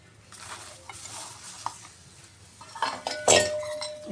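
Vegetables stirred and fried in oil in a pan while cooking a palya, soft stirring and faint sizzling with sharp clinks of a utensil against the metal pan, growing louder toward the end.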